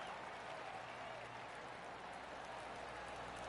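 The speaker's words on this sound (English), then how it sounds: "Oh, golf clap." Polite golf clap applause from a crowd in PGA Tour 2K21, a faint, even patter of many hands held under a low background hum.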